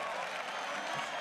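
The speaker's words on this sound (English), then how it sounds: "The crowd cheers for Peke." A crowd at a 2016 League of Legends All-Star esports match cheers and applauds for Peke in a steady, dense wash of noise with no single voice standing out.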